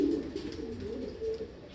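Racing pigeon cooing softly and steadily, a low continuous murmur of coos with no voices.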